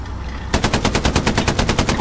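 Rapid automatic gunfire from a weapon in the World War II shooter game Foy: Warfare, a loud, steady burst of about fifteen evenly spaced shots starting after a brief quiet lead-in.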